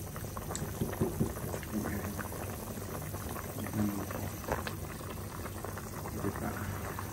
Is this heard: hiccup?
no